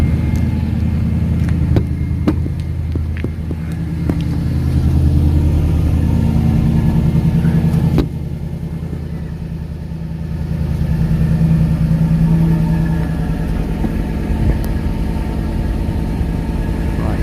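A Maserati GranTurismo 4.2 V8 engine idles steadily nearby with a deep burble, with slight rises and dips in its rumble and occasional small clicks.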